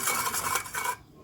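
Lemon juice, onion juice and salt being stirred together in a bowl, a steady scraping, rubbing swirl lasting about a second, close and fairly quiet, then stopping.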